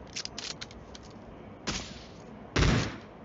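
Gunfire in a video game aimed at a bot, a quick cluster of light shots followed by two louder, separate blasts, with no voices during the shots.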